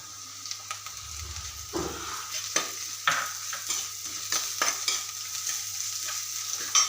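Sautéed sliced onions frying in a pan with crushed ginger added for a traditional river fish curry, a steady close sizzle with repeated stirring scrapes and a brief louder burst as the ginger drops in.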